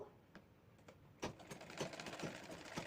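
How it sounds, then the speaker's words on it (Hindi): A sewing machine joins fabric pieces cut from old clothes for a homemade pillow, running in short, faint bursts of rapid mechanical clatter that grow steadier and louder partway through. "इस तरह से सिलाई लगा के जोड़ देंगे"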